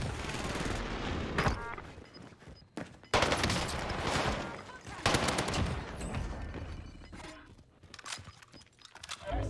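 Dense gunfire from Call of Duty: Warzone rattles in long automatic bursts and clusters of shots, loud and near, with brief gaps between volleys and some faint talk under the fighting.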